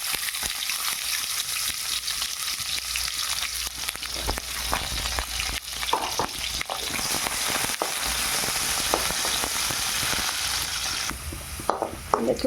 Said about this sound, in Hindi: प्रथमे से साग को भल भाव में भाजी नवा।